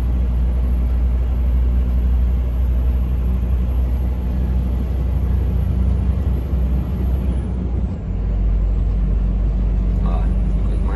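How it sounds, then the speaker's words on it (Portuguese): A truck engine labors in a steady low drone while climbing a hill, its rumble continuous and close with a slight dip in tone partway through, heard alone without talk. "O caminhão sobe morrendo, daí apanhando toda a vida."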